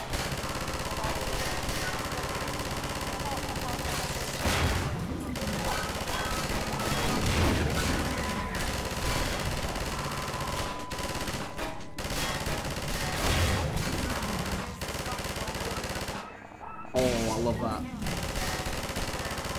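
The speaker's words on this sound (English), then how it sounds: "So, gun turret." A gun turret firing in the Half-Life 2 video game, sustained rapid shots at moderate volume running through the clip with occasional heavier bangs, and voices faintly underneath.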